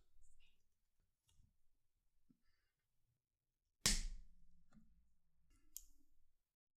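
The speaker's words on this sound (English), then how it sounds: "And we cut with the pliers." Pliers snip a part during restoration of a 1950s Vulcain watch, one sharp close click standing out in a quiet room, with a small tick just after, preceded by faint handling noises.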